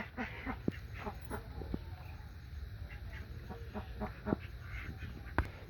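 Ducks and ducklings give scattered short quacks and clucking calls. The calls are faint and distant over a low background hum.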